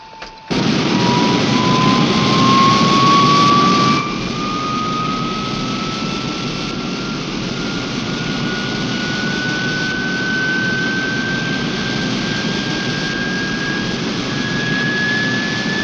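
A four-engine jet airliner powers up for takeoff, a loud sustained roar with a rising turbine whine that climbs steadily in pitch and holds close and powerful throughout.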